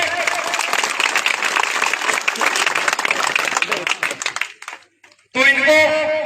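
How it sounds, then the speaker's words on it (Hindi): Loud, dense crowd applause at a 5-kilometre running competition ceremony at a soldier physical academy, sustained for several seconds before tapering to a stop, followed by a voice speaking. "तालियां हो जाए।"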